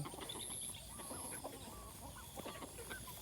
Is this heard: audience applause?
no